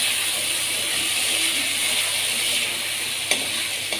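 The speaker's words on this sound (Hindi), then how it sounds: "अब इसमें डाल देते हैं अपने साबूदाने, इनको हमने पहले ही भिगो लिया था, और इनको अच्छे से मिक्स कर लेते हैं।" Soaked sabudana being stirred into cooked tomatoes in a hot pan gives a steady, close sizzle and frying hiss with scraping stirs and a couple of sharp clicks.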